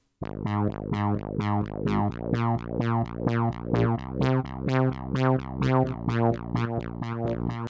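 A stereo-widened duplicate of a bass guitar track, soloed pre-fader, plays steady repeating plucked notes in an even rhythm with a wide, spacious tone, loud and alone.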